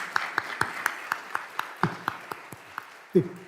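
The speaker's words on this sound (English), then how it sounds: "I want us to give a round of applause to all of these speakers before we hit them with questions." Sparse audience applause for panel speakers at a teach-in, roughly a dozen separate claps at an uneven, slowing pace, faint and thin rather than a full ovation, with a brief voice near the end.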